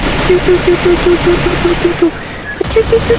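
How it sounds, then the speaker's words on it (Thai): Rapid automatic gunfire in a video game, a loud, evenly spaced stream of shots lasting about two seconds, then a short gap before another quick burst. "โอ้ยิงมาตั้งเยอะ"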